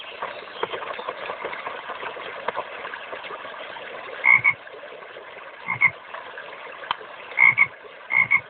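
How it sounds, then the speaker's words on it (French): Frogs croak from a garden stream, short throaty calls coming in small clusters over a steady low hum, fairly close and with no talk. "j'ai vu des grenouilles dans le ruisseau"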